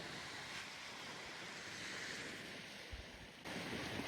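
Surf washing onto an ocean shore in the Comox Valley, British Columbia, on a sunny day: a steady, broad wash of waves with some wind noise against the microphone, continuous and moderately close, with no talking.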